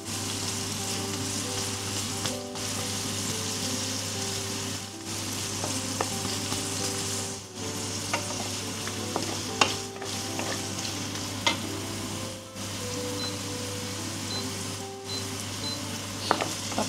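Vegetables sizzle and fry in a pan with a steady, close hiss, broken by occasional stirring scrapes and short pauses.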